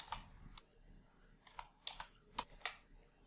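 A handful of separate computer keyboard keystrokes while a table is being renamed in Excel, quiet, close and crisp, spaced irregularly over a few seconds with no talking.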